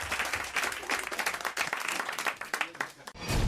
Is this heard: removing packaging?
no